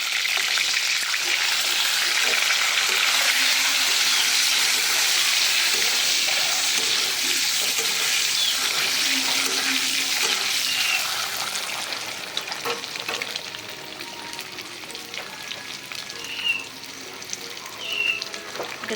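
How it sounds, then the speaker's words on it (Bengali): Eggs fry with turmeric in a pan, a loud, dense sizzle that holds steady and then eases, with occasional stirring scrapes and small pops toward the end. "ভালোভাবে ভাজবো।"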